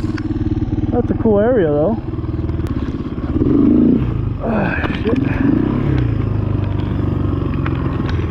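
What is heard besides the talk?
Honda XR200 motorcycle riding off-road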